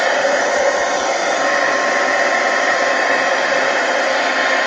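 A hair dryer blows steadily and loudly at close range while drying collage artwork, a constant whooshing roar with no pauses from start to finish.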